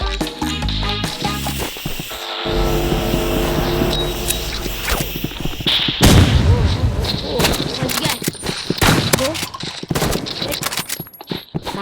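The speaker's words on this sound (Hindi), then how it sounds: "ये पूरे मैच में मैं शॉटगन यूज करने वाला हूँ" Shotgun blasts ring out in a shooting video game, loud bursts amid busy game effects and music over nearly twelve seconds, with someone talking throughout.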